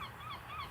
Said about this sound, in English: hearing the seagulls, the waves